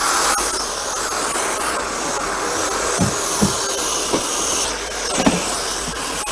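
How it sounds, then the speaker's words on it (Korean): A household vacuum cleaner runs during cleaning of an Airbnb rental, a steady loud whooshing hiss that fills the whole stretch, with a few soft bumps and knocks. "그 다음에 이제 청소기를 한번 돌려줄 거예요."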